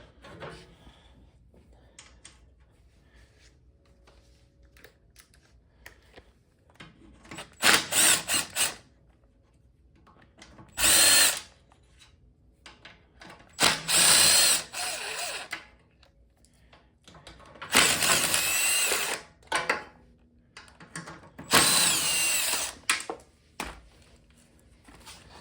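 A power tool on a rusted Troy-Bilt snowblower buzzes in five short bursts of a few seconds each while the valve cover comes off, separated by quiet gaps with faint clinks and handling noises.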